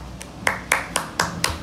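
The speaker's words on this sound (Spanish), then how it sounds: "¡Aplauso! Pero de pie, ¡aplauso!" Sharp hand claps in a classroom game, six distinct strikes in a loose, uneven rhythm, close and moderately loud, with no voices over them.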